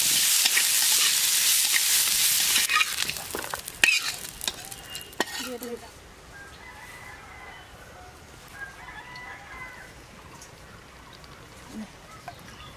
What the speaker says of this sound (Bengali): কাজু আর কিশমিশটা আমি ঘিয়ে ভেজে নিচ্ছি